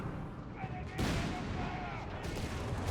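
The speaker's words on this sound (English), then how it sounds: "Big artillery hits here" Heavy artillery shells strike in a Company of Heroes 3 battle: a rough booming burst lands about one second in and another follows later, set against constant rumbling battle noise while a voice talks over it.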